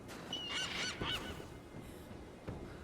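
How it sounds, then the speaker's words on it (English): A seagull cries in the video game Rise of the Tomb Raider, a few harsh honking calls near the start and about one second in, then quieter ambience with faint clicks. "Shut up, seagull."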